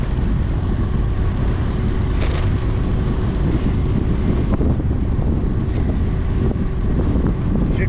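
Steady, loud wind buffeting a microphone outdoors while a DJI Mavic Air 2 drone flies into a headwind near a mountain biking trail, a continuous low rumble with occasional gusts and no talk.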